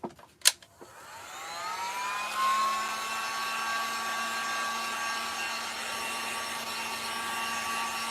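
A handheld dryer blowing on freshly painted wood for a DIY riser, switching on with a couple of clicks and then whirring steadily and fairly close for several seconds, alone without talk.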